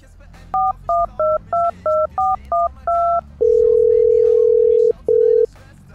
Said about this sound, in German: wäre ja mal kurz den Herrn Moser bzw. den Herrn Blotzke anrufen